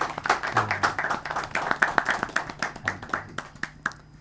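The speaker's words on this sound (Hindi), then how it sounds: "मैं चाहूँगा कि हम ज़ोरदार तालियाँ बजाएंगे।" A crowd claps steadily, many hands producing dense, sharp applause that continues throughout, with brief voices underneath.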